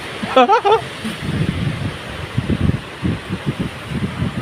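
Gusty wind buffets the microphone in low rumbling bursts, with a brief high-pitched voice near the start.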